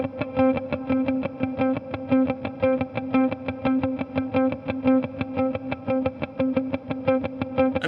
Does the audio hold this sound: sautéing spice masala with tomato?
no